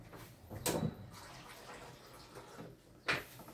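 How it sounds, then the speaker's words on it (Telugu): Water splashes into keema in a pan with two brief pours, a short first gush and a second near the end, over quiet background. "సో ఇప్పుడు వాటర్ వేసుకున్నాను నేను ఇందులో."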